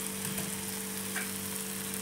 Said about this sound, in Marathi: आता थोडंसं झाकण ठेवून कांदा भाजायला देऊया।